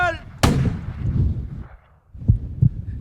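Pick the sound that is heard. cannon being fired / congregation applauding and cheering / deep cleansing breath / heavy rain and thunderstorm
cannon being fired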